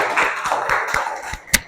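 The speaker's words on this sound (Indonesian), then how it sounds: "Tepuk tangan dulu untuk temannya." A classroom of students claps for a classmate, with a short burst of scattered, rhythmic hand claps that ends in one sharper clap.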